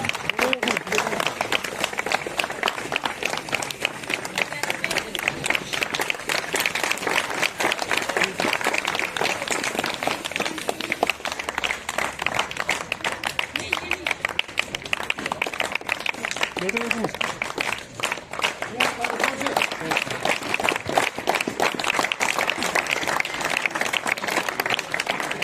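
Children clap together after a Run for Unity event at a school on the Magam–Gulmarg highway in Kashmir, a steady dense applause filling the whole stretch with voices mixed in.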